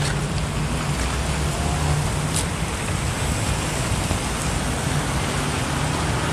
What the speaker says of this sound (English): So it's raining out here.